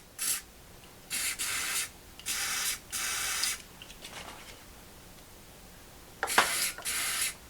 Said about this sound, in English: Now spray both the bolt and the hole.